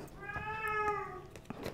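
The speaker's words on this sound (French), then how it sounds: "Le chat qui vous passe le bonjour." A cat meows once, a clear drawn-out call standing out close and moderately loud above faint background noise.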